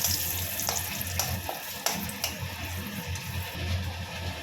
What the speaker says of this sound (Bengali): যে ভেজে রাখা মাছের ওখানে তেলটা যে আছে ওখানেই দিয়ে দিচ্ছি শুকনো লঙ্কা, তেজপাতা